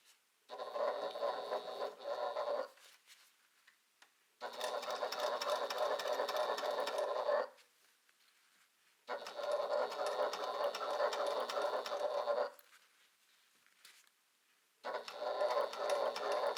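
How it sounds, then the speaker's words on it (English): A sewing machine stitches down a bag seam while an accent piece is attached, running in four sustained bursts of steady whirring with short quiet pauses between them, close and clear with no talking. "go to the other side and stitch down as far as I can go"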